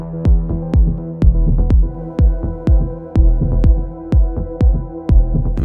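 A dark melodic techno synth preset plays a melody of sharp plucked notes in a steady, evenly spaced rhythm, each note trailing into a long, heavy reverb wash over a sustained low drone, loud and alone with no voices.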